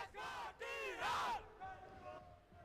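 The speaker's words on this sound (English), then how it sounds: "If you've got fans cheering for you like that." Fans at a Valorant esports playoff match cheer and yell in a loud crowd burst, rising in waves over a few seconds before easing off.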